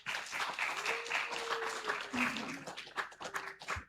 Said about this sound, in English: So let us give a well-deserved round of applause.